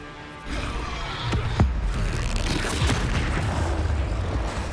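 A Bombarda explosive spell in Hogwarts Legacy bursts with a deep boom and sharp crackling impacts, followed by a rumbling blast that stays loud and dense through the rest of the moment.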